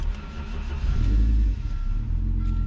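A Titan CQ car's engine turns over and runs after the ignition key is turned, a steady low rumble that swells briefly in the middle then settles back to an even idle.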